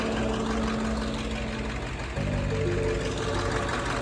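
A school bus converted into a skoolie idles just after being coaxed to start with starting fluid, a steady low engine rumble that shifts pitch partway through and keeps running evenly, no voices.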